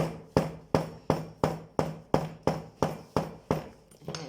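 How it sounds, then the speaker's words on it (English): Steady hammer blows strike a firm handmade sandal sole, about a dozen evenly spaced knocks, each sharp and close with a brief ringing decay. "try to hammer down that way."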